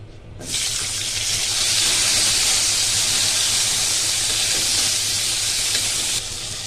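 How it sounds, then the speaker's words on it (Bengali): Tomatoes dropped into hot oil with panch phoron and a dried chili, a loud, sudden hiss that bursts in after a brief quiet moment and holds steady as a broad, close sizzle before easing slightly at the end. "তেলটা গরম হয়ে গেছে, পাঁচফোড়ন দেব আর একটা শুকনো মরিচ দিয়েছি। এবার দিয়ে দেব টমেটোগুলো"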